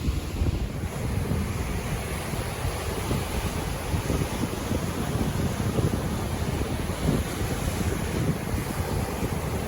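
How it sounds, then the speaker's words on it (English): Strong wind of 10 to 15 miles per hour buffeting the microphone on a beach during surf fishing, a constant loud roar mixed with rolling surf and no speech. "while the wind's blowing 10 to 15 mile an hour now"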